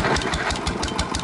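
A GM 1-71 single-cylinder two-stroke diesel engine runs with an even, fast, steady thumping beat, close and fairly loud with no voices over it.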